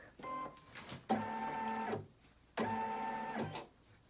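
An embroidery machine stitches and trims appliqué fabric on a kids' shirt, running in two loud mechanical bursts of rapid, rhythmic needle chatter separated by a brief quieter pause, with no talking.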